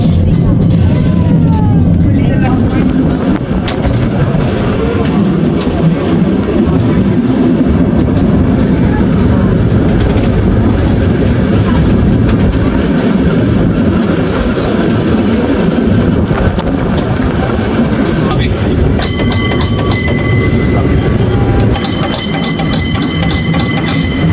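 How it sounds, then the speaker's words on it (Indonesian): A vintage San Francisco cable car travels along the rails, giving a loud, continuous rumble and rattle with wind buffeting, and a burst of bright clanging bell strikes near the end. "Keretanya jalan."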